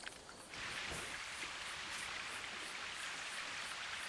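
Small water splash at an indoor waterpark, heard as a brief splash early on that gives way to a constant hissing spray with faint rhythmic pulses, like water from misters, at moderate loudness.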